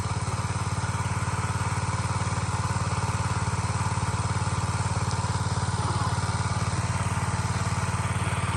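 A petrol engine drives a water pump in a rice paddy in rural northeastern Thailand, chugging steadily and loudly at close range with a constant low rhythmic drone throughout and no pauses.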